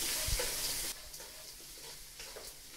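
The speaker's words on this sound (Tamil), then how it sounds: "இதெல்லாம் நல்லா வதக்கி விடணும்." Onion, green chilli and curry leaves being sautéed in a pan, a bright sizzle that flares loudly at first and then settles into a softer crackle with occasional stirring scrapes, close by and without speech.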